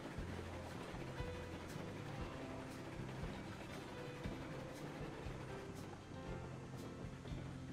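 A freight train in Railroads Online rolls along the tracks past trees with a continuous low rumble and rhythmic clatter, with faint intermittent clicks and hiss over it.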